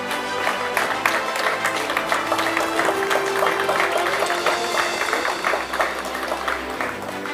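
Audience applause at a harbour authority press event and run launch: steady, dense clapping from a crowd in a hall, sustained at moderate loudness for several seconds, with a faint tone and some murmuring beneath.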